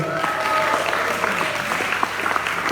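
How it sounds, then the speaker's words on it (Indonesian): Seminar audience on a campus in Malang applauding a speaker, a dense, steady wash of many hands clapping at close range throughout, with a faint tone and some voices underneath. "Beri tepuk tangan untuk beliau."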